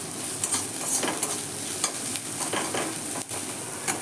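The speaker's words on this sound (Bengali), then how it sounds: "মিডিয়াম করে কুচিয়ে নেওয়া পেঁয়াজ। এগুলো খুব লাল লাল করে ভাজবো না।" Finely chopped onions fry in a pan with a dense, continuous sizzle. A utensil stirs them with regular scrapes and taps, close and clear, and no one speaks.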